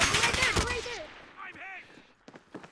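Gunfire in the Warzone video game, a quick burst of shots up front followed by sparser cracks, heard under a player's voice talking over it.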